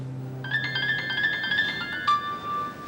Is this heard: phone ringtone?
yes